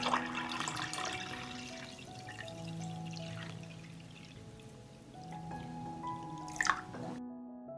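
Water poured into a pot holding jars for pasteurizing, a soft, close, gurgling trickle that shifts in pitch as the level rises, then stops abruptly, with no talking.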